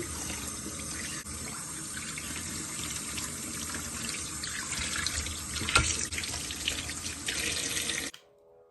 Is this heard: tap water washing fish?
yes